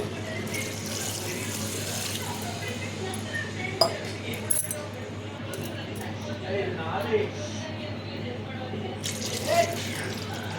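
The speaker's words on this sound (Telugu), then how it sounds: "రెండు చెంబుల వాటర్ పోస్తానండి." Two vessels of water are poured into a pan of country-chicken curry in a home kitchen, a steady splashing flow with a few clinks of utensils and a faint voice in the background.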